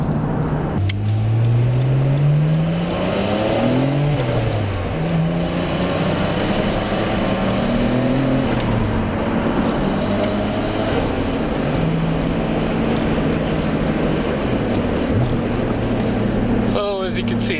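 A Nissan Skyline R32 engine revs up through the gears in repeated rising sweeps, loud and close with a rough road-noise bed, while a person talks over it.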